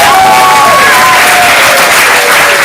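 A comedy club audience applauds loudly after a stand-up comedian's set, giving a dense, continuous wash of clapping with some cheering, close and steady throughout.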